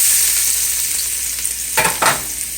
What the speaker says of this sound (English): Alright, I'm putting my garlic. And because the oil is so hot.